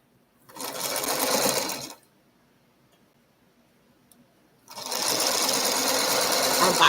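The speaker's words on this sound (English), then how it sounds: "I'm going to sew another line of these things." Sewing machine stitching a line of quilt blocks, two close, steady bursts of rapid whirring stitches separated by a quiet pause.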